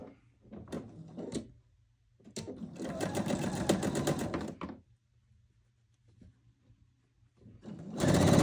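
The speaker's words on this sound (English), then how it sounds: "I'm going to line the diagonal edge and sew 1/4 inch" Sewing machine stitching a quarter-inch seam along the diagonal edge of oversized quilt block triangles, running in a short burst, then a steady stretch of about two seconds, then starting again, with light handling thumps between runs.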